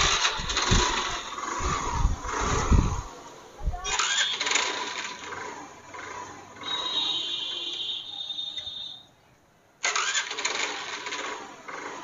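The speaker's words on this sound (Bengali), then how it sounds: "এবার বাইকটাতে আমরা সেলফ দেবো" A Pleasure, Maestro or Activa scooter with a suspected faulty CDI coil cranks on its self-starter, giving a whirring starter motor and engine catch followed by running and a brief silence before it cranks again, heard close up.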